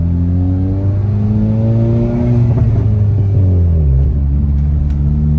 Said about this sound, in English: we're going for a nice ride in the Type R. Catalyst downpipe installed.